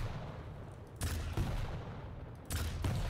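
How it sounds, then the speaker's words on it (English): Rocket explosions in the video game Quake, heavy blasts bursting in at least twice over a constant rumbling bed of game noise, loud and close. "So this is a rocket explosion."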